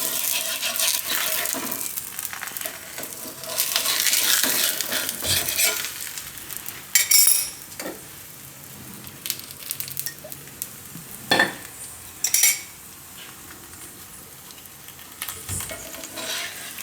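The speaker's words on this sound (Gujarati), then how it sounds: "તો આને આપણે શેકી લેવું. એક બાજુ શેકાઈ જાય પછી ફેરવી લઈએ." A sesame paratha roasts in a pan over a low gas flame, giving a steady soft sizzle with occasional louder scrapes and clinks of a utensil against the pan; no one speaks.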